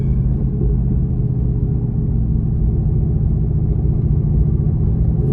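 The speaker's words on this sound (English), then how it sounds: "just so I can do a pull getting on the freeway so you guys can hear what I mean" Deep, steady rumble of an AMG GTR pulling hard onto a freeway, a dense low-pitched engine drone heard from inside the car, continuous and loud with no talking.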